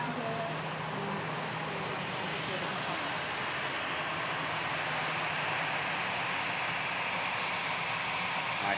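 Air Canada airliner in classic livery at Manchester Airport, heard as a steady, broad jet engine roar that holds constant throughout, moderately loud and without talk.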